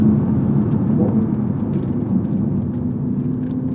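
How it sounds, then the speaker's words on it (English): BMW i8 drivetrain droning steadily during downshifts, a loud, continuous low hum and rumble from inside the car with no clear gear-change blips, no voices over it. "Oh man, it's so conservative with these downshifts."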